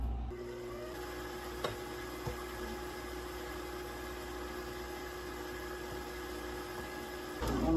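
An electric mixer runs on low speed through cake batter as a dry flour mixture is added a little at a time, giving a steady, even motor hum with a few faint knocks and a brief louder surge at the end.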